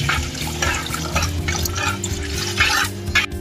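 Water poured into a pan while cooking fish escabeche with garlic and onion, a continuous splashing trickle against steady kitchen hum.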